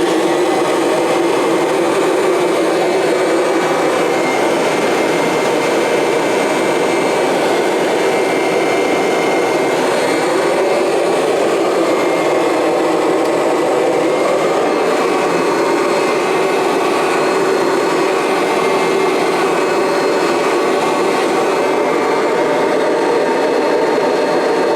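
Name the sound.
Kirby vacuum cleaner running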